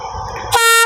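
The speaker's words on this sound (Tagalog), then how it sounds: "Lakas talaga ng busina ni ano na yan, Maria Beatriz talaga." A loud multi-tone horn on a crew vehicle blasts right up close, a sustained chord-like honk that cuts in sharply over rumbling engine noise and holds steady.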